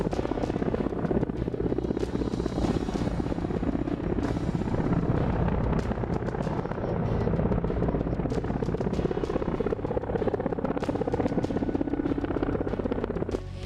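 A military Apache helicopter at an army display near Pangong Lake gives a continuous, loud rotor and engine roar that holds steady throughout, with no talk.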